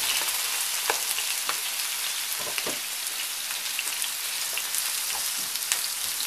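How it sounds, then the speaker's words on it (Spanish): Tomato, onion and chiles fry in hot oil in a pan with a loud, continuous crackling sizzle, dense and close, broken by occasional pops and the faint scrape of stirring. "vamos a agregar el jitomate con la cebolla y los chiles"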